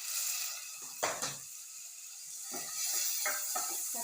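Tomatoes and onions sautéing in a pan on the stove for a Kerala yogurt curry, with a steady soft sizzle under sharp clinks of a spoon stirring against the pan, no talking.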